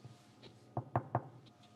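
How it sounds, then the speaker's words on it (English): Knuckles rap a ceramic tile backsplash in a house, giving three quick, sharp knocks in a row that are close but fairly soft, set against a quiet room. "I just knock on things"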